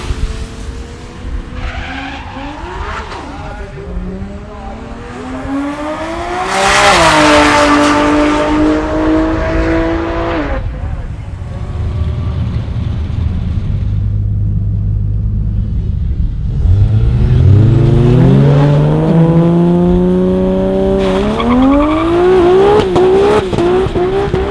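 A Ford Barra-engined drag car running on E85 accelerates hard, its loud engine rising through several gear changes, dropping back, then climbing again, with a deep low rumble between the pulls.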